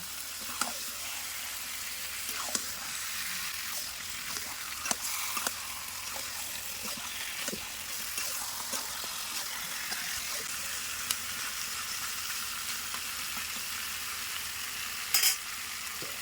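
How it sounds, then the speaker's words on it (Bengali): Chicken curry with potatoes being mixed in a hot pan, a steady close sizzle of frying under repeated scraping and clicking spatula strokes, with no talking. "এবার সব কিছু ভালো করে মাখিয়ে নিচ্ছি দেখুন"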